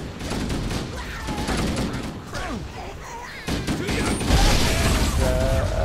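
Repeated bursts of gunfire and grenade explosions fill a Halo video game battle, with chaotic clattering and a heavier blast near the end, mixed with whistling effects and other game sounds.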